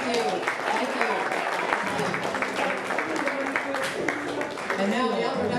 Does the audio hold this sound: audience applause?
yes